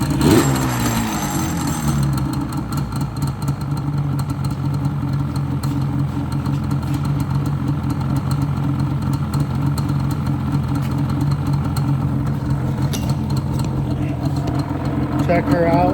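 A 1996 Yamaha Banshee ATV fitted with Toomey T5 exhausts idles steadily while warming up, a close, even engine drone that holds for the whole stretch, with a voice speaking over it.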